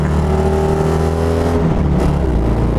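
Citroën Dyane 6 race car with a two-cylinder engine running at speed, a loud, steady buzzing drone with strong low harmonics, heard close up and continuous throughout.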